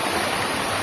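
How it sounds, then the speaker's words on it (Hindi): Water pouring from small tipping buckets at a water park in Murthal, Haryana: a steady, loud rush of splashing water, continuous and close, with no voices over it. "छोटी छोटी बाल्टियाँ, पानी गिरेगा ऊपर"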